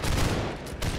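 A massed musket volley in the Holdfast line-battle game, a dense, sustained crackle of many shots fired together, loud and close, rolling on for the full second with no talk over it.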